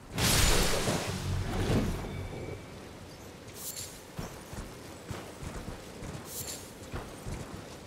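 Horse hooves while riding in the video game Elden Ring: a loud whooshing start gives way to a steady trot of clip-clopping hoofbeats continuing to the end.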